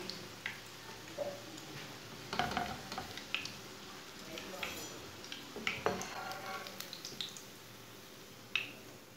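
Leftover-roti tikki fries in a pan on a stovetop over lowered heat, giving a quiet, soft sizzle broken by scattered small pops and crackles.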